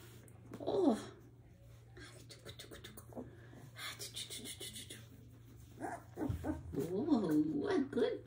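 Seventeen-day-old puppies whimper in thin, rising and falling whines, one near the start and a longer run near the end, under quiet human speech.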